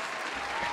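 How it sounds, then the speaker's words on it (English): Steady applause, a brief burst of clapping heard alone at even loudness throughout. "Clap it up for me."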